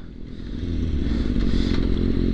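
Someone rides a motorcycle, its engine a low steady rumble that swells slightly, heard up close with wind and some rattling.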